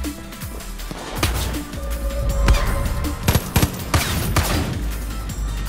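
Gunfire in the shooter game Far Cry: New Dawn, a string of sharp shots and bursts, some in quick clusters, over a low game rumble, with a player talking faintly beneath.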